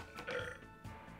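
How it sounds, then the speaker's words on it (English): A single human burp, short and fairly quiet, rumbling briefly before trailing off, with faint background sound and no talking. "I got a burp."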